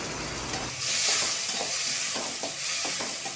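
Onions sautéing in a pan for a peanut dal kuzhambu, a short burst of close frying hiss with a few scraping stir strokes.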